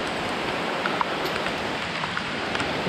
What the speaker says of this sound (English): lots of rain here today.